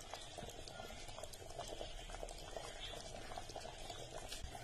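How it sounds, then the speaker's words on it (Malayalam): Coconut milk being poured into a pot of simmering Kerala-style country chicken curry, a steady bubbling and liquid wash that runs evenly and close throughout. "ആ ഒരു മുറി തേങ്ങയുടെ പാല് ഞാൻ ഇതിലേക്ക് ഒഴിക്കുകയാണ്."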